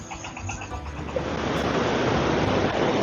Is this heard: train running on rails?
no